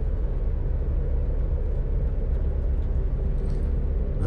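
A storm rumbles across a hot alien planet in No Man's Sky, producing a constant heavy low roar throughout, with a faint high whistle near the end and no speech.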